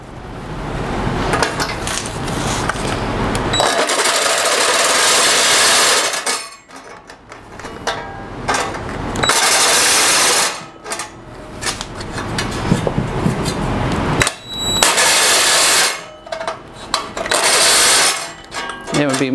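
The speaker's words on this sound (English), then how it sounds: "I'm gonna use a power tool on this" A power tool cutting parts for a DIY DTG printer whirs and grinds loudly in bursts, starting and stopping repeatedly with short pauses and clattering between runs.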